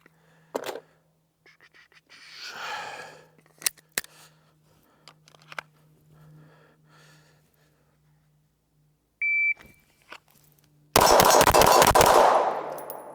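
A Glock 19 Gen 5 pistol fires after a shot timer's electronic beep: scattered handling clicks and faint noise, a short tone, then a fast string of loud, sharp shots close together.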